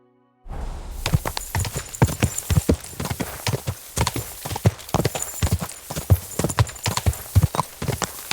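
Horse hooves gallop in Kingdom Come: Deliverance 2 as a close, loud, rapid clip-clop that continues for several seconds, with a faint whinny mixed in.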